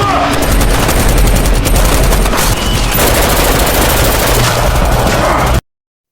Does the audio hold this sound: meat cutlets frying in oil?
no